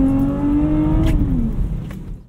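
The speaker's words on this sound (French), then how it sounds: "IS300 donc c'est un moteur 3 litres de JZ, c'est un 6 cylindres, ça chante comme un 6 cylindres de Supra" A Lexus IS300 Sportcross with a 3-litre JZ straight-six revs up, a steady, loud engine tone climbing and then easing off over a couple of seconds, heard close and with no talk over it.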